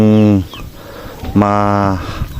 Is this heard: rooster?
yes